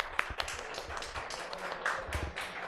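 Students in a live class give scattered light claps, a few uneven taps rather than full applause, faint in the room.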